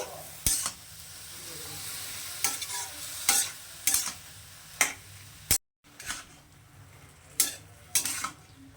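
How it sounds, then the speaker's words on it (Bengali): A utensil stirs and scrapes a fish head with turmeric in a hot pan, with a faint sizzle underneath. The strokes come as uneven sharp clatters, close and fairly loud, with a brief silence partway through. "তো দেখুন বন্ধুরা এটা আমি ভালো করে নেড়ে চেড়ে নিয়েছি"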